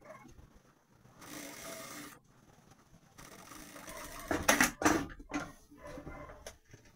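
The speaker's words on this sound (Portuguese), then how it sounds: "E vou passar a costura fazendo a bainha, passando aqui bem em cima dessa costura da overlock que eu fiz" A home sewing machine runs in short bursts while hemming a pair of shorts over an overlocked seam, with whirring runs broken by pauses and a few sharper mechanical clicks, close and moderately quiet.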